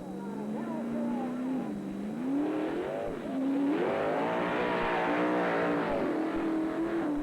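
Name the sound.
pulling tractor engine revving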